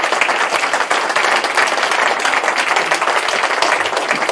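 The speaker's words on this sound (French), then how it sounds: "Vous devez vous applaudir." A large audience at a political conference claps loudly and continuously, a dense, steady roar of applause throughout.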